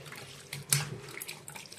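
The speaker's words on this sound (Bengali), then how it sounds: "চলো শাকটা ধুয়ে বসাবো" Spinach under running tap water in a home kitchen sink, a short soft splashing stream with a brief louder gush in the middle.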